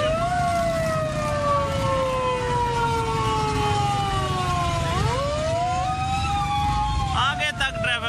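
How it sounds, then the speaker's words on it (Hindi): Ambulance siren wailing while stuck in a full traffic jam during Independence Day celebrations in Islamabad, rising and falling steadily over a constant roar of traffic, fairly loud and close, with a brief horn-like burst near the end. "फुल जैम है, साइरन ज़रूर सब सुन रहे होंगे, लेकिन रास्ता कोई भी नहीं दे रहा जी।"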